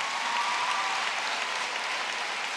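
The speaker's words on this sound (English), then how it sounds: "Give them a round of applause" Steady applause from a large audience at a university graduation ceremony for engineering and law faculties, a dense, even patter of many hands heard at a distance.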